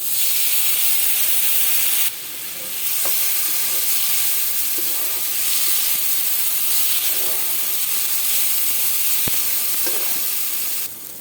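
Ginger paste added to cumin in hot oil for a Bengali brinjal-with-curd dish, a loud, steady hissing sizzle that surges briefly and carries a couple of sharp clicks.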